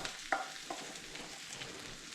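Onions and pine mushrooms fry in a pan with a soft, steady sizzle, broken by a sharp clink and a light stir early on.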